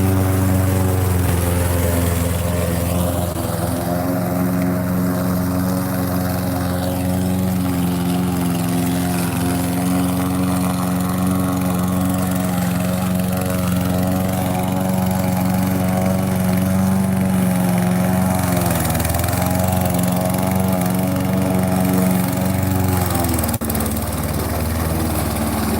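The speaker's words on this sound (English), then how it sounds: "We're gonna go ahead and let the mower do his thing." Zero-turn lawn mower running continuously at a steady engine drone with a whirring blade hum, fairly loud and close, with slight shifts in pitch as it works and no voices.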